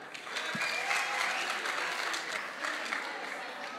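Audience at a debate clapping for the jury members, dense sustained applause from a room full of people, fairly even and moderately loud for the whole stretch.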